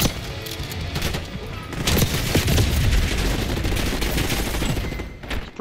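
Rapid automatic gunfire in Call of Duty: Black Ops, dense bursts of loud cracks and booms running continuously with scattered sharper reports.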